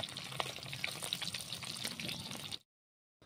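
Dense, crackling sizzle of rohu fish pieces frying in hot oil, loud and close, running steadily for a couple of seconds before cutting off abruptly into silence.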